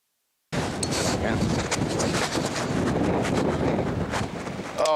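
Strong wind buffets a camera microphone outdoors, a loud continuous roaring rumble that bursts in suddenly after a moment of silence and keeps gusting steadily.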